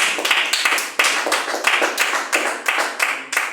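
A church congregation clapping hard for a visiting preacher: a few hands beating in a fast, uneven rhythm, each burst sharp and close, repeating steadily for several seconds.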